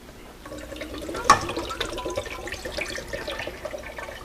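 Fourteen ounces of water pours steadily into a saucepan with a splashing onset, a continuous gurgling flow close by.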